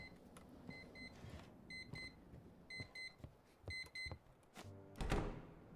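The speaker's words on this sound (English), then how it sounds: "What's beeping?" Repeated electronic beeping in the Lovecraftian papers-checking video game Static Dread, bursts of short alarm-clock-like beeps in groups over a quiet background, ending with a louder thunk.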